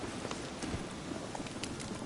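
Roach, the horse in The Witcher 3, gallops in a steady, rhythmic run of hoofbeats, quiet and continuous.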